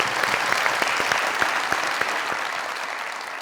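A studio audience at a comedy talk show claps loudly and densely, with sharp individual claps standing out before the applause slowly tapers off.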